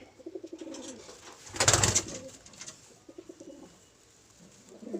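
Large adult pigeons cooing in a coop, a series of soft low throaty coos close by, with a louder burst of fluttering or rustling in the middle and more cooing after.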